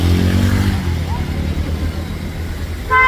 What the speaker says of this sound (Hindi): ये देखो कैसे स्कूटी चला रहे हैं,